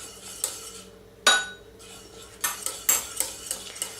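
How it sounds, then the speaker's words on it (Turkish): A spoon clinks and scrapes against a cooking pot while milk beaten with egg is stirred into a thickening mixture, with sharp metallic taps coming in irregular bursts. "hem karıştırıyorum hem de yumurtalı sütümü ilave ediyorum"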